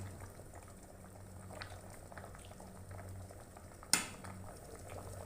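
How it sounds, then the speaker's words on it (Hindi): Gajar halwa, grated carrots in milk, simmers in a pot with a faint, steady bubbling close by, interrupted near the end by a single sharp clink of metal. "अब मज़ीद इसको 2 मिनट के लिए और पकाते हैं ताकि इसका दूध जो है वो खुश्क हो जाए"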